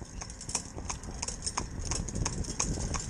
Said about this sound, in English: just a nice, easy-going horse